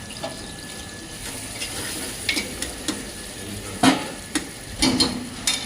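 Onions and green chilies frying in hot oil in a pan for a Telangana-style boti curry, a steady close sizzle with occasional stirring clatters and scrapes, no talking.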